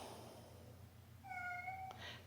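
A pet cat lets out one soft, faint meow near the end, followed by a small click, against a quiet room hum.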